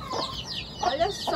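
Hens and newly hatched chicks in a backyard in the Amazon cluck and peep close by in irregular bursts, while a person talks briefly over them.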